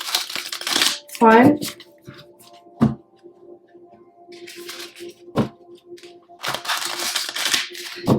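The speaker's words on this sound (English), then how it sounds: "Let's get 2 more shuffles." A red tarot deck is shuffled, giving a few short, crisp riffling and rustling bursts of cards. A voice speaks briefly between and around them.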